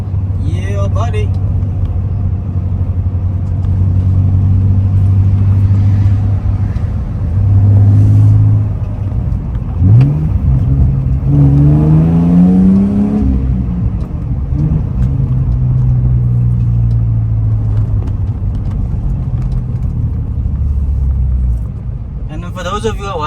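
A BMW E46 car accelerating hard, heard from the driver's seat: loud, continuous engine roar rising and falling through the gears, with brief pauses at the shifts.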